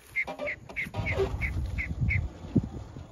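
Ducklings kept at home after being bought, two of them sick and listless, give a quick run of small, faint, evenly spaced quacks over soft handling noise and indoor rustle.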